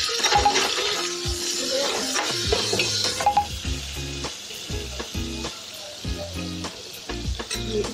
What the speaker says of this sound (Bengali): এখানে আছে তেজপাতা দিয়ে দিব, গোটা জিরা দিয়ে দিব, দিয়ে দিব লং, এলাচি এবং দারচিনি।